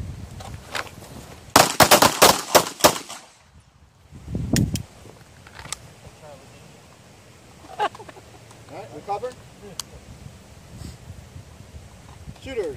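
Pistol fire on an outdoor training range during a shooting drill: a rapid volley of loud, sharp shots from several shooters, then scattered single cracks and clatter, with an instructor's voice talking between bursts.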